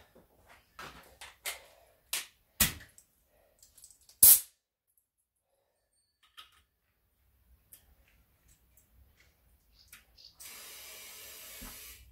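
Compressed air hissing into a tyre on a manual tyre changer: a series of sharp clanks and taps from the machine comes first, then a steady, continuous air hiss begins near the end.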